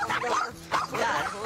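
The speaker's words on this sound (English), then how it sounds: "That is the typical bark of dogs who don't have rules, manners, limitations" Several dogs bark and yip in short bursts, loud and fairly close, with excited whimpering between the barks.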